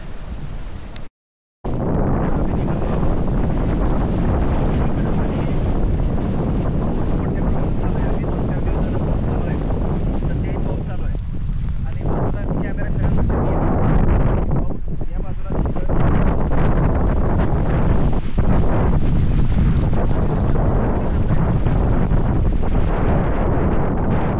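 Heavy wind buffeting the microphone with a constant roar, rain falling over rice paddy seedlings underneath, and a voice talking through parts of it.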